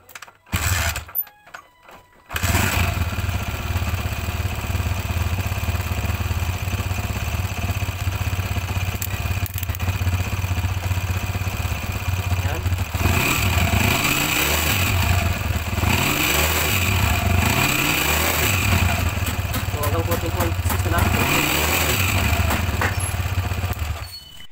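Motorcycle engine idling at a steady mid-pitched putter after a battery change and charging check, close and continuous for over twenty seconds with a few throttle blips raising the pitch midway, no talk.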